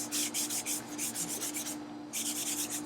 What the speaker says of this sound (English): Let's use the paper towel.